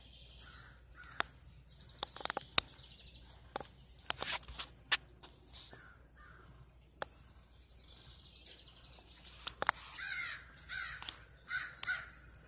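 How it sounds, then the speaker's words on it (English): Crow cawing outdoors on a quiet morning, a scattering of harsh calls and sharp clicks, fairly faint and distant with no talking. "do you hear the crow?"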